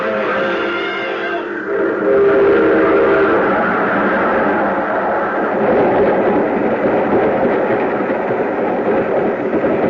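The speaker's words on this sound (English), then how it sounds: "There's a train coming." A train rumbles loudly and steadily on the rails, its heavy roar building and holding close throughout with no talk over it.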